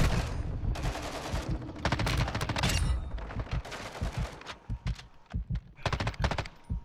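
Rapid bursts of automatic turret gunfire in a shooter video game, repeated volleys of close, loud shots with short gaps between them, heavy and sustained across the scene with no talk over it.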